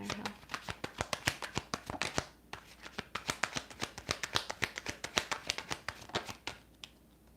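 Tarot cards being shuffled by hand: a quick, steady run of crisp riffling snaps and flicks, close and fairly quiet, with no talk.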